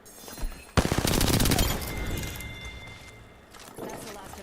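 Rapid automatic gunfire bursts in a shooter video game, loud and near, starting abruptly and fading into scattered shots, with game voice lines and talk over parts of it.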